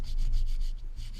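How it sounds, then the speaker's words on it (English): Sandpaper rubbing over rough spots on a concrete countertop mold, a close rhythmic scratchy back-and-forth of a few quick strokes, alone without talk. "And a quick sanding to smooth out any of the rough spots."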